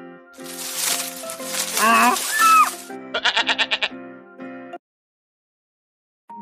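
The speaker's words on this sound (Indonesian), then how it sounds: "Ada domba jantan yang tanduknya tersangkut di belukar." A ram bleating as a sound effect in a Bible story, the cry of a male sheep caught by its horns in a thicket; a few wavering bleats amid layered background music, fairly loud, followed by silence.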